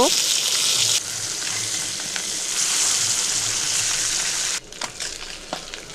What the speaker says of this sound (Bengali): মাছগুলো সব ভেজে নিচ্ছি উল্টে পাল্টে নেব